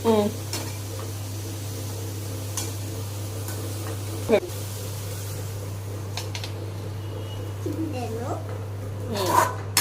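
Food fries quietly in a pan over a steady low hum, with occasional scraping stirs and a clink, while voices talk intermittently nearby.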